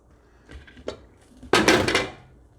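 Metal lid set down over a pan of cooking eggs: a couple of light taps, then a loud, close clatter as the lid lands and settles on the pan, with no voice.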